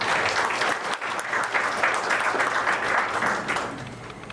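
An audience at a Bank of Korea anniversary seminar applauds to welcome a speaker, a dense, sustained wash of many hands clapping that tapers slightly at the end.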